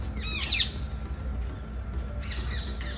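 Loud, shrill squawking call from a peacock in a Jodhpur garden, one sharp cry near the start and fainter repeated calls later, over low background rumble and no talk.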